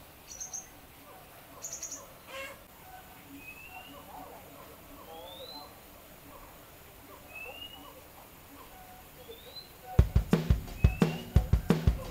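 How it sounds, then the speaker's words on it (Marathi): Recorded bird calls play from a push-button buzzer at the Singapore Zoo: sweeping whistles and chirps repeat over a steady hum, then a burst of sharp clicking taps near the end. "तुम्ही त्या बझरवर बटन दाबलं की त्या पक्ष्यांचा आवाज तुम्हाला इकडे ऐकायला येतो."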